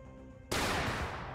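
In a video game, a scoped rifle fires with a sudden loud blast that rolls into a sustained, dense rumble of gunfire lasting about a second.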